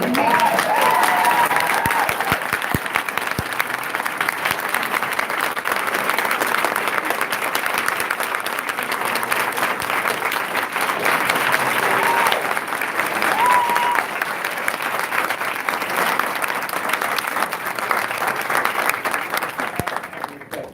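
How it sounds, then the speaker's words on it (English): Sustained audience applause fills an Orange County Board of Education meeting room, dense steady clapping from many people continuing for about twenty seconds before starting to thin. "if you have to clap, please make it short"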